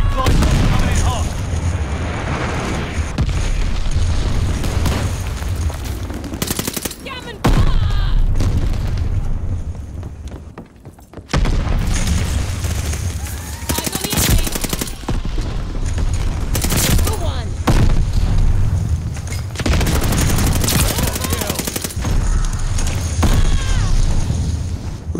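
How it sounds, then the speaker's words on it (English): Enemy bombing run in Call of Duty: Vanguard, with dense, continuous booming explosions and rattling gunfire nearly throughout, briefly dropping out twice before the barrage resumes loudly, with voices calling out over it. "Enemy flight bomb coming in hot."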